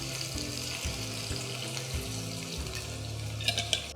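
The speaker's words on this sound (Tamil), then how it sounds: "தண்ணி சேர்த்து நல்லா கலந்து விட்டுக்கலாம்." Water poured into red chilli mutton masala in a hot pan hisses and bubbles steadily, with a sharper splash and clink near the end, no voices.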